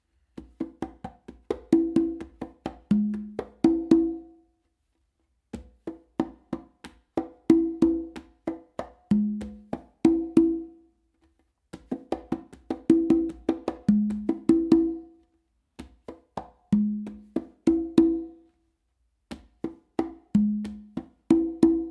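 Conga drumming in a steady tumbao pattern, slaps and muted strokes with a recurring deep open tone on the low drum, played alone in repeating phrases.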